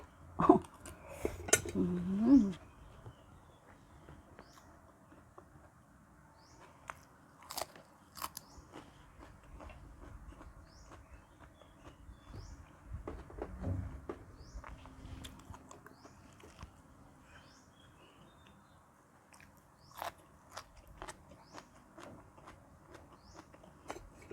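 Someone eating Thai roasted fish-innards curry paste with mushroom omelette, close crunchy bites and chewing scattered over about 24 seconds, with occasional utensil clinks and no talking.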